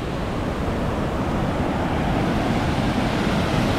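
Rushing water at Napne waterfall in Maharashtra, a steady broadband roar that holds even and loud throughout with no pauses and no voices.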